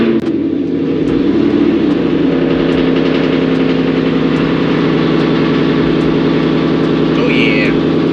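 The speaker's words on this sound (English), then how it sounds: "let's get this cold start going" A car engine cold-starts inside a garage, catching after a second and settling into a loud, steady, rumbling idle that fills the space without pause.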